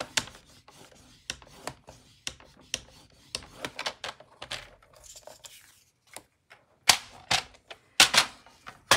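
Paper being folded and creased for a handmade pull-tab mini album, producing crisp clicks, crinkles and pressing scrapes in irregular bursts. The sounds are close and grow louder and sharper toward the end, with no talking.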